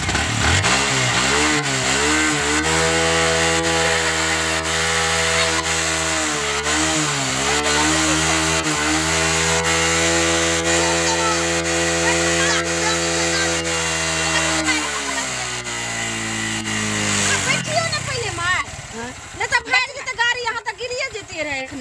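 A motorcycle engine runs loud and close, holding a steady idle with a few brief dips in revs before it sputters and roughens toward the end, while people talk over it.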